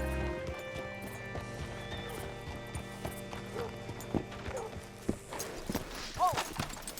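Steady clip-clop of horse hooves plodding along in Red Dead Redemption 2, with a short whinny near the end; faint background music underneath.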